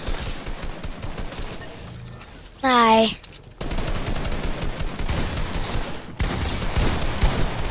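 Gunfire in a video game arena match, with bursts of rapid shots crackling in dense clusters, broken by a short gap where someone speaks, then resuming just as loud.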